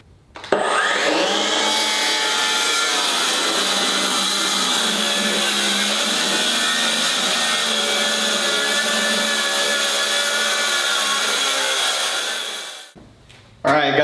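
A power saw rips plywood to width for a French cleat wall: a loud, steady, close cutting roar lasting about twelve seconds, then it winds down, with no talking during the cut.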